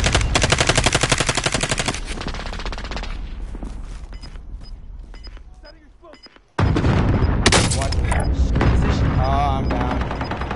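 Rapid automatic gunfire in a battle royale style video game, a dense fast rattle of shots that fades, goes briefly quiet, then bursts back loud, with a player's voice talking over it.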